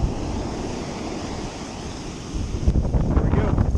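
Wind buffets the microphone on an open beach during surf fishing, a steady loud rush with surf rumbling underneath that swells into heavier gusts near the end.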